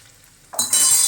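A pinch of asafoetida and turmeric hits hot oil in a pan for a taro leaf dish. After a quiet start, a sudden close, bright sizzle bursts up and holds to the end.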